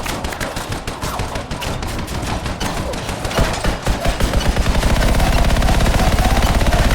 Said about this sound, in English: Alright, time to test all the weapons.